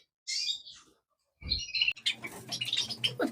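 Aviary birds in a bird room chirp and twitter in short, bright bursts, a quick burst first, then a pause before busier overlapping calls with a soft low rustle beneath, close and fairly quiet.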